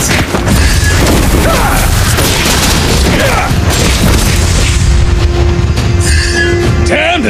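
Loud explosive booms and crashing impacts from a turret being destroyed in the mobile game Mobile Legends: Bang Bang, with dense, continuous battle noise throughout.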